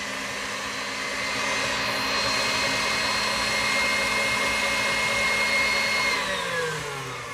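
An electric mixer whirs steadily as it beats butter to soften it for coffee cake, a close motor drone that rises and holds, then its pitch slides down near the end, with no talking.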